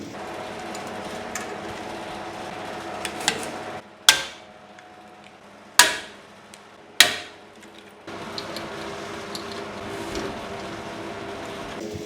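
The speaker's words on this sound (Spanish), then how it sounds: "Así que ahora lo voy a remachar y ya está." Riveting a metal headlight bracket on a motorcycle being converted to a bobber: three sharp, loud metallic snaps of the rivet tool spaced over a few seconds, set against a steady workshop hum.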